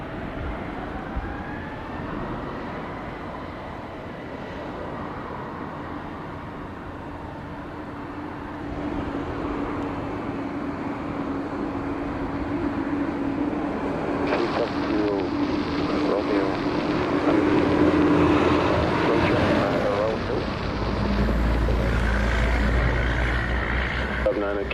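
Airliner idling and edging onto runway 07 at Montego Bay, Jamaica, a steady jet engine drone that swells gradually, with radio chatter heard over the engine noise.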